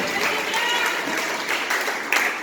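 A church congregation gives itself a round of applause during a sermon, a brief dense patter of clapping with voices mixed in.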